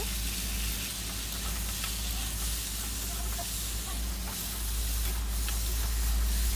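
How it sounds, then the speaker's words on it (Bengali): Turmeric, cumin, red chili and coriander powder sauté with potatoes in a pan, giving a soft continuous sizzle and hiss with faint stirring over a low steady hum, close and unvoiced. "এবারে হলুদ, জিরে, লাল মির্চ পাউডার, ধনে এসব দিয়ে দিচ্ছি, করে ভালো করে কষে নেব"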